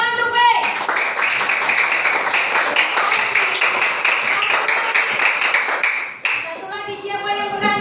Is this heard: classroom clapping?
yes